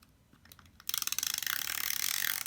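Tombow permanent tape being laid down, a few faint ticks followed by a rapid, steady ratcheting clatter from the tape runner that grows louder and continues to the end.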